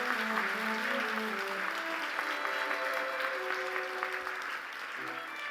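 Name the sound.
audience applause at award ceremony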